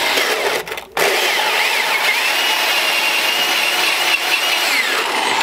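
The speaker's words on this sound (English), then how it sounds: "tilt them up like so, stab in, and we'll drill." A power drill bores into a hollow plastic dollar-store skull, a loud, steady whirring grind that runs almost continuously, dipping briefly near the start before resuming at full strength.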